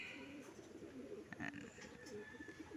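Soft low cooing of a pigeon, repeated a few times against a faint background hum.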